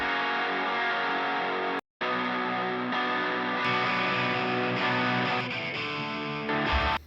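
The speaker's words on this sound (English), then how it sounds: "with my guitars, I have a different sound right and left" Distorted electric guitars, panned left and right with different tones, play versions of the same chord progression, with a brief cut to silence partway through before the strumming resumes.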